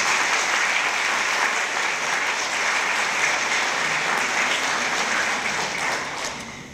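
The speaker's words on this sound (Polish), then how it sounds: "Wielkie brawa." An audience at a youth awards gala for a school in Mielec claps loudly and steadily, a dense wash of hand claps that holds for several seconds before starting to fade near the end.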